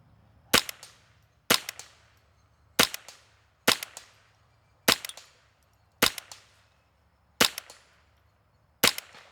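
A 10/22 rifle fires eight sharp, evenly spaced shots at a target, each a crisp crack with a short decaying ring, over a faint low hum with no talking.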